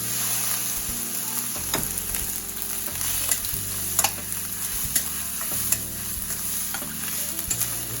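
Fried rice with soy sauce stir-fried in a pan, a steady sizzle with repeated scraping and clinking strokes of a utensil, close and continuous with no talking.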